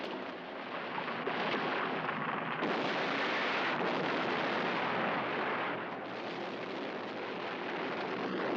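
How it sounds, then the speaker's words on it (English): A monster movie explosion rumbles as a continuous, roaring blast that swells louder partway through and then eases slightly, heard alone without voices. "There's another explosion in B sector."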